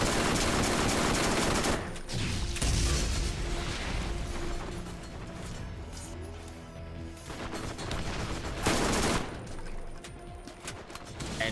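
Rolling turret enemies in Borderlands 1, Crimson Lance Scorpio turrets, unleash loud, dense rattling gunfire with mechanical clatter, continuous for several seconds and surging again near the end, with no voices over it.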